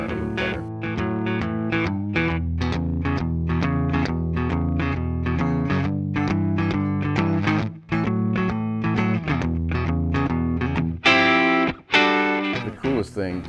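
An electric guitar plays a sustained chordal passage through a Yamaha THR10C amp with tape echo and room reverb, full and continuous, with brighter picked notes near the end.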